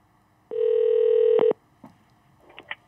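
A telephone line tone on a call being connected to a Korean FM radio show: one steady electronic tone holds for about a second, then cuts off, followed by faint clicks and brief line noises.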